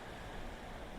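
Ocean surf breaks steadily along a Gold Coast beach in the early morning, a continuous, dense wash of water noise with a rip cutting through the waves and no voices.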